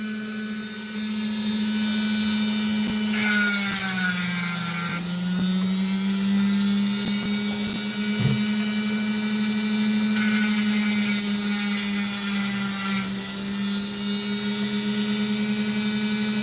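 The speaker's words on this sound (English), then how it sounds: "I'm slightly refacing the stone so that that angle is showing" Steady high-pitched whine of a rotary lapidary grinder refacing an opal stone, running continuously with slight pitch dips and brief brighter grinding bursts as the stone meets the wheel.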